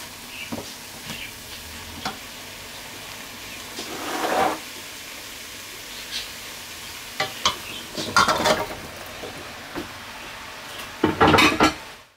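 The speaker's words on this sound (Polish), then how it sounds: "Teraz możemy wrzucić do garnka ziemniaki" Potatoes drop into a pot of vegetables for a creamy potato and leek soup, followed by a spoon scraping and stirring against the pot in scattered clattering bursts, with a soft sizzle underneath and no talk.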